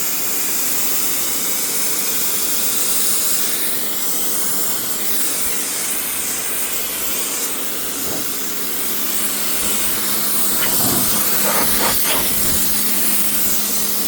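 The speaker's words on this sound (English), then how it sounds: "Got my little Suzie Homemaker pressure washer out here." A small Suzie Homemaker pressure washer sprays concrete, a continuous loud hissing jet with steady spray noise and occasional brief shifts in tone as the stream moves.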